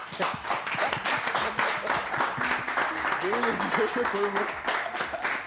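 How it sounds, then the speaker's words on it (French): Audience applause at a live comedy show, a steady wash of clapping from one side of the crowd, with a host talking over it throughout. "applaudissez pour vous, s'il vous plaît"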